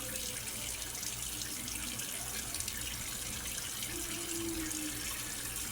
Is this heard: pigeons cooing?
no